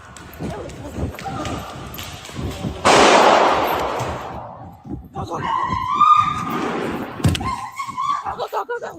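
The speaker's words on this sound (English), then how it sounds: "They're shooting." Gunshots ring out during an active shooter incident inside a shopping mall: a couple of sharp, loud bangs and bursts of broadband noise, mixed with shouting and commotion from people nearby.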